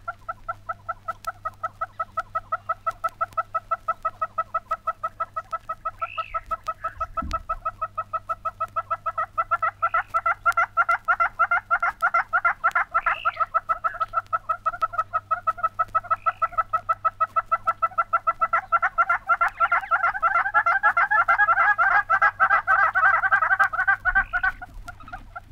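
A yellow-billed hornbill gives a loud, rhythmic series of clucking, cackling calls repeated steadily for a long stretch, building in intensity toward the end.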